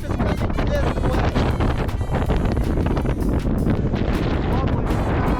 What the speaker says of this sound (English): Oh, the wind is coming this way.